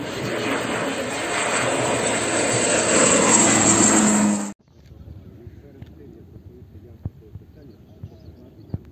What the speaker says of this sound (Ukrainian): Легкий військово-транспортний літак